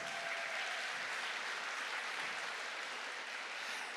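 A crowd applauds at a FIRST robotics district competition in Texas, giving steady, dense clapping throughout like a continuous wash of sound across the large event space.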